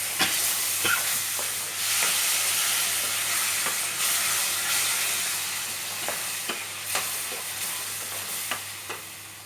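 Pineapple pickle being mixed with jaggery and chilli powder in a pan. A steady sizzle runs under intermittent scraping stirs and soft knocks, close and moderately loud, with no talking.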